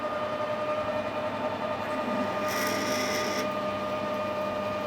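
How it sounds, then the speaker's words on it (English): Steady mechanical whir of a lathe running continuously while a 5 mm drill bores out metal for a steam valve, with a brief higher-pitched metallic whine in the middle, no voices. "Now we need to drill it out."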